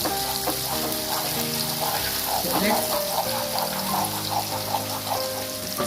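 Water, about 50 ml, pours and sizzles in a pan while cooking dahi paneer, a bubbling trickle under a brief spoken phrase and a light musical backing.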